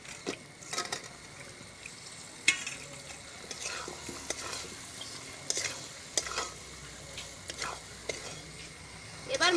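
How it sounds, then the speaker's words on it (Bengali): Potatoes and tomatoes fry with spices in a pan, giving a soft continuous sizzle while a utensil stirs and scrapes, with irregular clinks and taps against the pan throughout. "মশলা ভাজা হয়ে গেছে, এবার আলু আর টমেটো দিয়ে দেব।"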